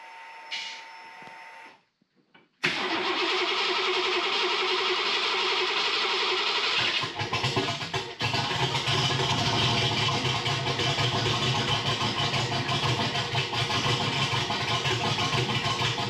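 A turbocharged Ford 302 V8 fitted with Holley Smart Coils cranks after a short pause, then catches and runs at a loud, rough, steady roar that grows heavier partway through, with no voices.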